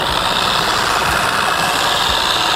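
A Cyclo Model 5-Pro dual-head orbital polisher runs on car paint while working wax, giving a steady, loud, continuous mechanical whir and hum with no breaks.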